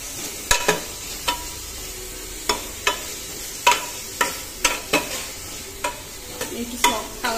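Soaked rice and vegetables being stirred in a frying pan, with a steady sizzle broken by repeated sharp scrapes and clinks of the spoon against the pan at an uneven rhythm, close and fairly loud, with no talking.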